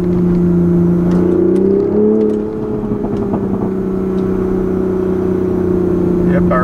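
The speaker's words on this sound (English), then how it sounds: "The more aggressively you drive this, the more it pops and crackles." A 2020 Toyota GR Supra's turbocharged engine pulls out of a corner on a mountain road, a loud steady droning note that rises slightly, dips, then holds at a sustained pitch.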